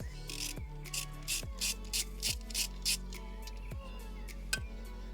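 A 13 mm socket on a ratchet loosens a nut on a Fiat/Alfa Romeo 1.4 T-Jet engine during a thermostat replacement, steady repeated ratchet clicks and scraping strokes, close-up under a low continuous hum.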